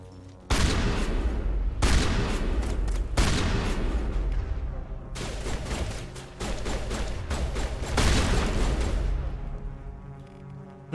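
Shotgun blasts ring out in the Mass Effect video game in several loud clustered volleys of rapid, sharp bangs separated by brief lulls, close and punchy.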